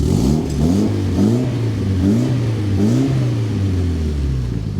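Mitsubishi Lancer Evo X engine with a custom exhaust revving repeatedly, its pitch rising and falling in about four close, loud pulses over a steady rumble, with no talking.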